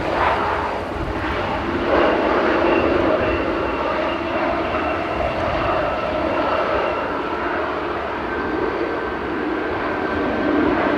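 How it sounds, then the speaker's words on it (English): An Air France airliner arriving at Manchester Airport, a loud sustained engine roar and rushing whine that holds steady throughout, with no talk over it. "Air France coming in for Paris Charles de Gaulle with flight 1268"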